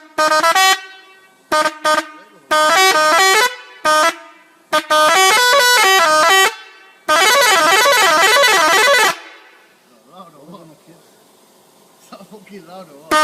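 Telolet bus horn sounding in a string of loud, melodic multi-tone honks, short bursts at first then a long warbling run, followed by quieter background noise and faint tones.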